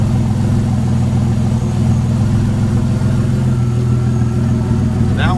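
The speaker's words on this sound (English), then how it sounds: "Turbo's still spinning." A twin-turbo engine runs at a steady idle during a turbo oil return test, giving a loud, close, continuous low rumble with the turbo spinning.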